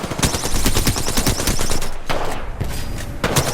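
Rapid bursts of Alternator gun fire in a shooter video game, loud close automatic shots in quick rhythmic strings, a short gap, then firing resumes.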